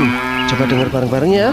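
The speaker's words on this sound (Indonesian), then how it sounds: "Tuh, ada suara sapi ngamuk lagi." Cattle moo loudly and close by near a barn, in one long, low, drawn-out call that wavers and rises. A person speaks briefly over the start of it.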